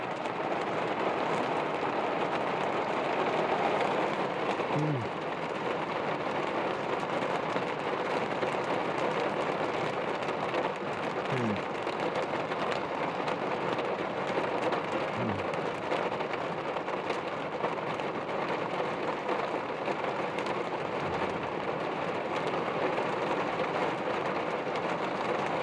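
Heavy rain pours steadily through a Florida lightning storm, a constant dense wash of sound with no breaks, a few faint low rumbles of distant thunder buried underneath.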